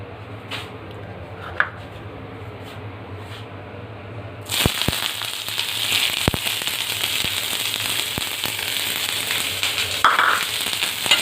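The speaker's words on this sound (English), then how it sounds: "Adding onions to it." Onions go into hot oil for a soya manchurian sauce, setting off a sudden loud, crackling sizzle that continues steadily with sharp pops, after a quiet, low-humming stretch at the start.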